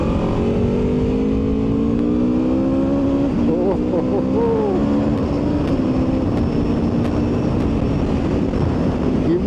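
Aprilia RSV4 1100 Factory superbike engine held at a loud, steady drone with rising and falling pitch as the throttle is blipped, heard close under wind noise.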